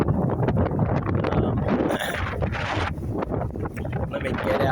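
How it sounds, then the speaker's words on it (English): Gusty wind buffets an outdoor microphone with a loud, continuous low rumble and rushing, broken by sharper gusts throughout, while someone talks over it. "Let me get out of this wind."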